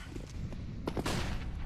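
Gunfire in the video game CSGO: a few sharp shots, the loudest pair near the middle, over a low background rumble.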